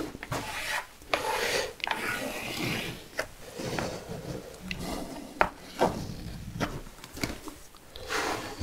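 Dry scratching strokes of a pencil tracing an outline on wood, repeated in short, uneven passes close by with small knocks between them.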